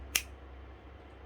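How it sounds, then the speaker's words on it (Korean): A single sharp finger snap cracks once, close and crisp, then fades into quiet room tone. "뭐 손가락 튕긴다고 하는 그런 거거든요."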